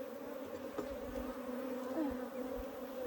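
Honey bees buzz steadily around an opened hive during robbing activity, a continuous droning hum with passing individual bees rising and falling in pitch, close and fairly quiet.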